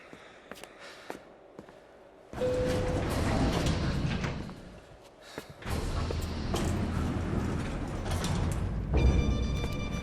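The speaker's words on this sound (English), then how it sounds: "The elevator would take me back up to Rodrigo's office where we could wait the rest of it out" Elevator ride in the video game Max Payne 3: sparse mechanical clicks and creaks, then loud sliding and clanking machinery as the car moves, a brief lull, and more rumbling motion.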